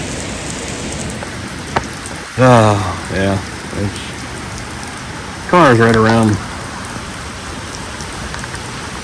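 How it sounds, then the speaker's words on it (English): Heavy rain pours steadily outdoors beside an abandoned 1977 Buick Electra, a continuous hiss with occasional louder drops, while someone talks briefly over it. "It is raining something fierce."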